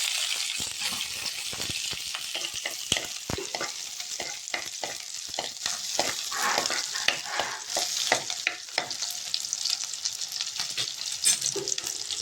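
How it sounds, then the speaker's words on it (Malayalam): Chopped green chillies and small onions get stirred in a hot frying pan: a continuous close sizzle with repeated sharp scrapes and knocks of the spoon against the pan, no voices. "അരിഞ്ഞു വെച്ച ചീനിമുളക് ഇട്ടിട്ട് നന്നായി ഇളക്കി കൊടുക്കുക."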